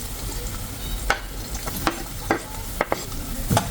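Ingredients being sautéed in a pan for eggplant with shrimp paste, a soft continuous sizzle broken by sharp scraping stirs and clinks of a utensil at irregular intervals, close and fairly quiet.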